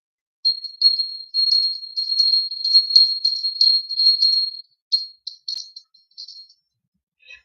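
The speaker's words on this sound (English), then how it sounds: "I'm gonna use my bell here and go over the stones." A small agogo bell is played over stones, giving a bright, rapid string of metallic tinkles and rattling rings in uneven bursts, close and clear, tapering off near the end.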